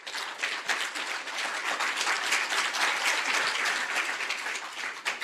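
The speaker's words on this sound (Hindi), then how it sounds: "जोर से ताली बजाएं।" Audience at a meditation talk clapping hard together on request, a dense, even wash of applause lasting about five seconds with no talk over it.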